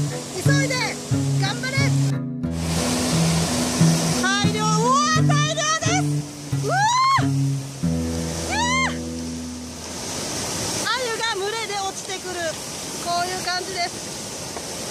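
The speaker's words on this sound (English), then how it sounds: "look out at the Nagara River and listen to the sound of flowing water" Water rushes steadily over a river waterfall at a fish trap on the Nagara River in Japan, a broad constant roar under continual chatter of voices and children nearby.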